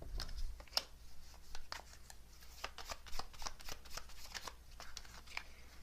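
Tarot cards are shuffled close up in a steady run of crisp riffling flicks and soft slaps, with a low background hum and no voices.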